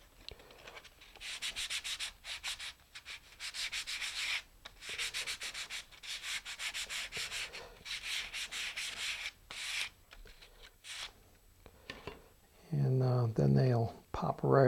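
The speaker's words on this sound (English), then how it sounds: "it's a little easier to sand them" Rocket glider parts being smoothed with sandpaper: repeated quick rubbing strokes in bursts, close and clear, with a person talking briefly near the end.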